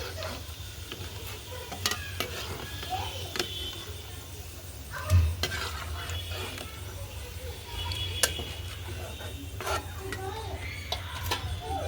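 Chicken pieces, boiled with salt and turmeric, fry and sizzle in a pan over a wood-fired stove, with frequent stirring clicks and scrapes throughout and a voice faintly heard in the background.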